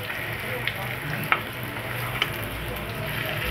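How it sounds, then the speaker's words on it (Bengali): A semolina and flour tiffin frying over low heat in a pan, a steady soft sizzle with a few faint pops and light stirring sounds, no voices. "এবারে হালকা স্টিমে এটা ভাজা হতে থাকবে"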